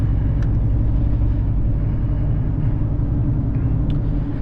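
A 2021 Chevrolet Silverado pickup fitted with an S&B cold air intake sits at a steady, low idle, producing a continuous deep rumble that stays close and even throughout, with no voices.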